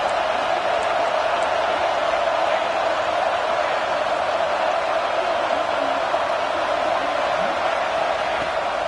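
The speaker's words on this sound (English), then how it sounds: "The roar of the crowd trying to fuel this defense to keep them pinned in their own end." A stadium crowd in the College Football 26 video game roars steadily and loudly for the defense. The dense, unbroken wash of noise holds at an even level for the whole stretch without dipping.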